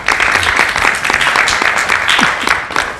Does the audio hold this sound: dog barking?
no